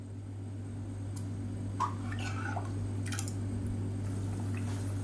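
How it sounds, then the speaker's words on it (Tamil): A Kongu-style tomato bajji side dish simmers in a pan, giving off faint, scattered wet plops and squishy bubbles over a low steady hum. "இப்போ பாருங்கள் நல்லா கொதிக்க ஆரம்பிச்சிருச்சு"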